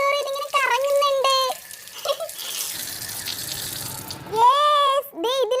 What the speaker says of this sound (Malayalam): വെള്ളം വീഴുന്തോറും ഇതിങ്ങനെ കറങ്ങുന്നുണ്ട്.